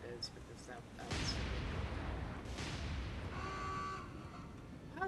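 Warship guns firing in the naval combat game War On The Sea, an Imperial Japanese Navy destroyer engaging a group of US Fletcher-class destroyers; a loud booming burst rolls for several seconds, followed by a fading rumble and a brief late pop.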